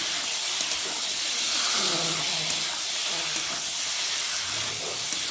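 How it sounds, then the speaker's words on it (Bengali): Fish cooking with spiced potatoes in a pan while the fish is stir-fried in masala, giving a steady, close hiss and sizzle with faint bubbling that carries on through the whole stretch without a break. "এখন আমি মাছগুলোকে দিয়ে ভালো করে একটু কষিয়ে নেব"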